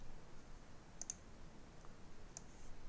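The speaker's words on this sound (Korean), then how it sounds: "키보드에 컨트롤 키와 A 키를 동시에 누르시면 전체 선택이 되실 거예요" A few sharp keyboard clicks ring out as the Ctrl and A keys are pressed together in CAD software, with two quick taps near the middle and a single tap later, all faint and isolated against quiet room tone.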